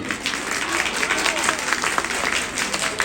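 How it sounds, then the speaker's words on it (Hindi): Crowd clapping at a Nobel Peace Prize Day celebration, a sustained dense patter of many hands with some louder claps, heard fairly close and loud. "बजाओ ताली इस बात पे"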